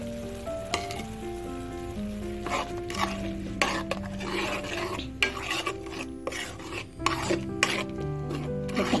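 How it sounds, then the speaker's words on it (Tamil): Tomato paste being stirred into a chickpea curry with onion and ginger-garlic paste in a pan, loud close scraping and rasping strokes in an uneven rhythm over a frying sizzle, with steady background tones and no speech. "இப்போ நான் அரைச்சி வச்சுருக்கேன் தக்காளி விழுது சேர்த்துக்கிறேன்"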